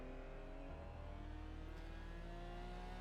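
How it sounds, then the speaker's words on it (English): A Porsche Cayman GT4 Clubsport race car engine in a VR racing game at the Nürburgring Nordschleife drones loud and steady throughout, with layered engine harmonics that rise slightly as it revs. "We're back in the Porsche Cayman GT4 Clubsport."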